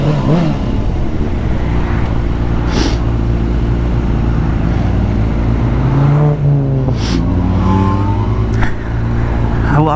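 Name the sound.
motorcycle exhaust while riding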